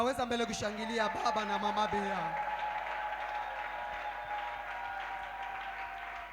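A church congregation bursts into applause during a service, the dense clapping loud at first, then thinning into a softer sustained patter, with voices in the background.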